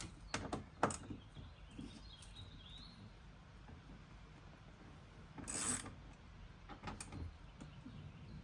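Bolts loosened from a door speaker on a fifth-generation 2019 Ram 1500, a few faint, close mechanical clicks and ratcheting bursts with quiet pauses between them.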